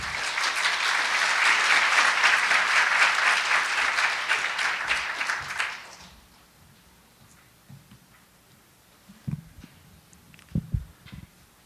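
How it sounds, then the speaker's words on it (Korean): An audience at an international diplomacy symposium opening ceremony applauds loudly for about six seconds, then the clapping fades out into a quiet hall with a few soft knocks and handling sounds. "윤덕민 국립외교원장님을 큰 박수로 맞이해 주시기 바랍니다"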